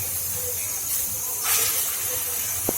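Lentil fritters frying in hot oil in a pan give a steady, fairly quiet hiss with a faint rising bubbling that lasts throughout.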